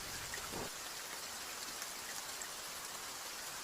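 Rain falls in a steady, even patter, a soft continuous hiss with no voices over it.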